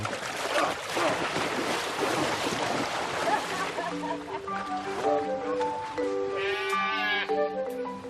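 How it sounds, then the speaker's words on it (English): Sheep bleat several times, wavering cries rising over a rushing, noisy background, with one higher, quavering bleat near the end. "Yeah, runaway sheep."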